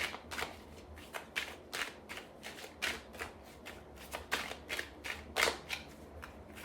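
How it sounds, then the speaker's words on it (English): Tarot cards shuffled by hand, a quick irregular run of crisp riffling snaps and slaps close by, a dozen or so sharp bursts over several seconds, with no talking. "I'm just going to shuffle the cards."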